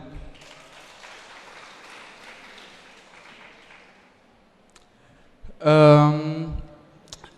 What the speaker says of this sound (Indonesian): Bisakah saya minta tepuk tangan sebelumnya?